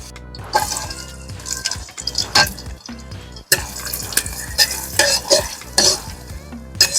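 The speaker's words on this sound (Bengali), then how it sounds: "এবার দেব পেঁয়াজ কাঁচা লঙ্কা" Onion and green chilies frying in a pan with cumin, star anise, mace, cardamom and cloves for village-style mutton paya: loud, close crackling sizzle with steady stirring scrapes throughout, no voices.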